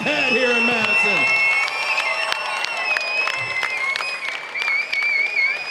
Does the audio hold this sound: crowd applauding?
yes